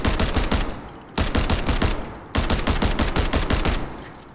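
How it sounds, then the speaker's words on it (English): An automatic rifle fires in the video game Delta Force Havoc Warfare, three loud, rapid bursts of crisp gunshots in quick succession, each lasting about a second with brief pauses between. "it feels so snappy and crisp when you're shooting"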